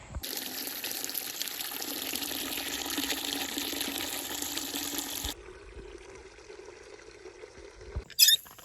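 Water gushes steadily from a tap into a container for about five seconds, then shuts off, followed by a brief clatter.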